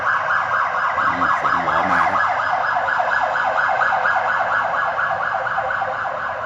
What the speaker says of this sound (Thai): เสียงหวอมาเสียงหวอมานะครับผม